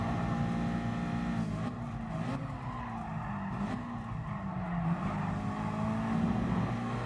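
Race cars in Gran Turismo Sport roar steadily, with engine tones rising and falling through gear changes and tires squealing under hard braking into a corner, loud and continuous with no talk.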